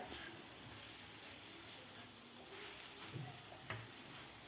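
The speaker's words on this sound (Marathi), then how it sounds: "व्यवस्थित गुळ मिक्स होईपर्यंत आपल्याला हे परतून घ्यायचं आहे" Grated coconut and jaggery for modak filling being stirred in a pan, giving a steady, soft sizzling scrape with occasional light spoon knocks and no voices.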